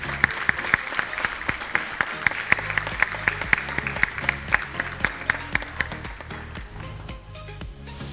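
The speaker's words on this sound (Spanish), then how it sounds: "Y nosotros aplaudimos fuerte a Emanuel." Audience clapping steadily at a kindergarten graduation ceremony for the five-year-olds' class, with sharp individual claps standing out over a continuous wash of applause that swells louder at the very end.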